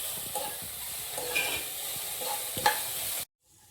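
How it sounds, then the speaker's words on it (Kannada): Ginger garlic paste frying in a hot pan, a steady close sizzle with soft scraping stirs every second or so, ending abruptly in near silence. "ಸೊ ಆ ಟೈಮಲ್ಲಿ ನಾನು ಒಂಚೂರು ಶುಂಠಿ ಬೆಳ್ಳುಳ್ಳಿ ಪೇಸ್ಟ್ ಹಾಕೋತೀನಿ"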